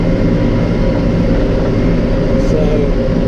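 A Massey tractor running a hay tedder drones with a steady, loud low engine rumble that continues without a break.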